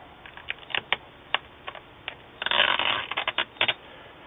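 Pieces of tape peeled back from the signal cable inside an LG L1932TQ LCD monitor under repair, heard as a series of close, crackly rips and ticks with a longer sustained peel partway through, and no talking.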